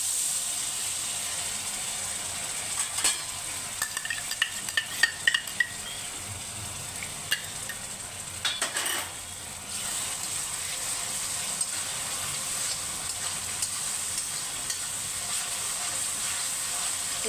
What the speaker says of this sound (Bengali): এখন আমি এর মধ্যে আদা রসুনের পেস্টটা দিয়ে দিচ্ছি।